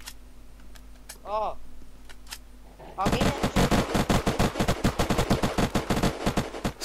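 Rapid automatic gunfire in the video game Unturned rattles in dense bursts after a quiet stretch with a brief spoken word and a few isolated shots.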